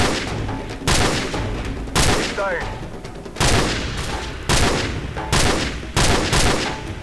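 Loud gunfire cracks out in Call of Duty 4: Modern Warfare during a sniper mission, with about eight heavy shots and bursts landing at irregular intervals, each followed by a short decaying tail.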